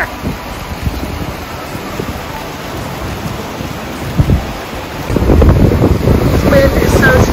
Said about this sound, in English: This wind is so strong.